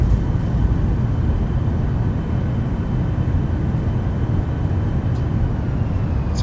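A Boeing 737-800 in the X-Plane 11 flight simulator roars down the runway on its takeoff roll, with a loud, dense, steady engine rumble that holds throughout and has no talk over it.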